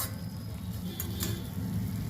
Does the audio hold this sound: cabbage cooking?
yes